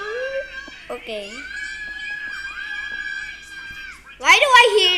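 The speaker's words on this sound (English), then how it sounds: "Why do I hear very loud screaming?" Loud high-pitched children's screaming and shrieking sounds from a game, rising to a sharp burst near the end, heard over continuous voices.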